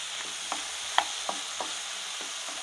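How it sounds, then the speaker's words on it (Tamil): Country tomatoes stirred and sautéed in a pan for tomato halwa, with a soft steady sizzle under a series of sharp spoon scrapes and taps spaced about every half second, close and fairly quiet. "நல்லா வதங்கணும், அது வரைக்கும் நல்லா கைவிடாமல் கிளறி விட்டுக்கிட்டே இருங்க"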